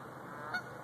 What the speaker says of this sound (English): there must be 100 Canadian geese out here